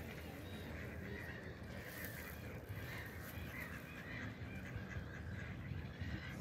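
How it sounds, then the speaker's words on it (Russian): Wild ducks on a city pond quack faintly amid muffled outdoor background noise, distant intermittent calls under a low steady ambience, with people nearby. "Боязливые они, дикие утки."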